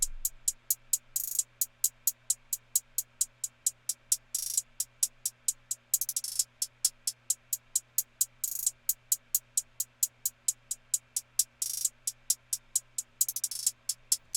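Crisp hi-hat ticks in a steady, fast rhythm, with a few longer open-hat hisses, over a faint low hum; the hits seem to shift from side to side.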